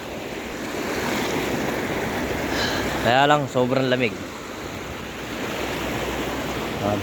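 Steady, loud rush of strongly flowing water fills the whole clip, with a person speaking briefly partway through.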